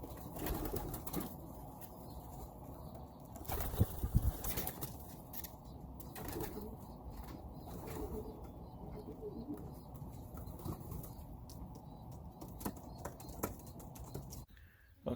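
A racing pigeon coos softly and intermittently at close range in a quiet indoor space, with low rustling and faint background noise.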